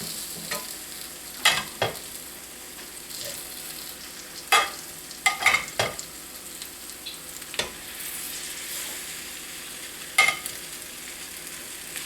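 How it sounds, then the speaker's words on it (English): Beef short ribs and mirepoix sizzling faintly in a pan, with a steady low fry broken by several sharp scrapes and clacks as the pieces are pushed around, no talk. "I kind of move the mirepoix out of the way"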